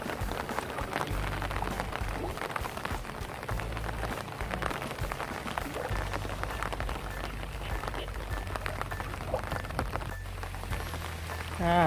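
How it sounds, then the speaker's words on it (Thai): Rain falls steadily on a garden in Mukdahan, Thailand, at the end of the rainy season in October, a dense patter of drops on leaves and surfaces that goes on without a break and with no voices over it. "สวนก็ชุ่มฉ่ำไปด้วยฝนนะครับ สวยงามจริง ได้ฝนแล้ว"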